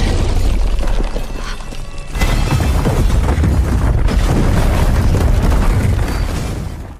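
A loud, sustained explosive roar from a bomb blast in an airport hallway, with a deep rumbling low end, swelling sharply about two seconds in and continuing heavily until fading at the end.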